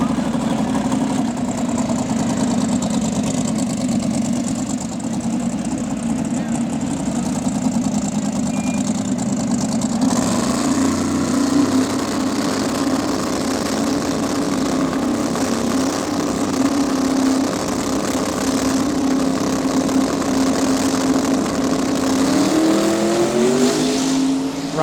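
A Nova and a Pontiac drag racing car at a heads-up list-versus-list shootout, engines idling with a loud, continuous rumble that shifts into heavier revving partway through and holds steady to the end.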